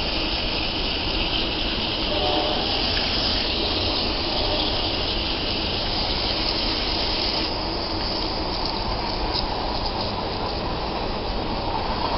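Steady rushing water from a hose pours continuously into a pool, a broad even gush filling it without pause.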